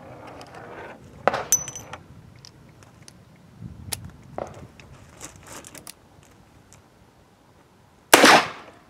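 A .44 Special round fired from a 16-inch barrel during a muzzle energy test, heard as one sharp loud report near the end, after a few faint clicks and handling noises in a quiet setting.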